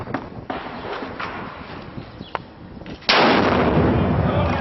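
A grenade blast bursts loud and close during a firefight in Karabillah, Iraq, after scattered sharp gunshots and cracks, leaving a dense roar of debris and noise that fills the rest of the moment.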